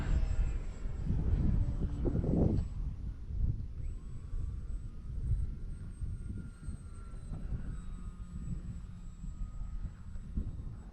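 The engine of an E-Flite Trojan T-28 RC model airplane with a 1.1 m wingspan drones steadily at a distance under breezy outdoor noise, the whine faintly shifting as it takes off and climbs away.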